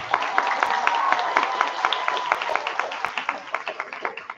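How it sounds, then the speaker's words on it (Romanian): An audience at a high school freshman ball applauds, a dense, loud wash of hand claps that becomes more distinct and rhythmic toward the end. "Cred că merită o rând puternic de aplauze pentru momentul de mai devreme."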